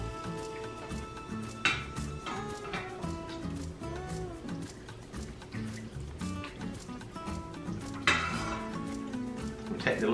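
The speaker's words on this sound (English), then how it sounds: "And so I'm gonna mix it up because I want to get the garlic when I do it." Garlic is mixed into warm pickled cabbage brine with Asian vegetables, giving a steady stir with soft liquid sloshing and occasional clinks against the container, close and low in level, with no talking.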